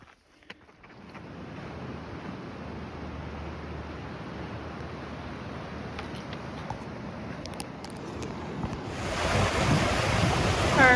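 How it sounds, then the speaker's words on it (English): River water rushes steadily at a trail crossing on the Pacific Crest Trail near the Whitewater Preserve, a broad continuous roar that swells louder toward the end, mixed with wind buffeting the microphone. "Our first river crossing."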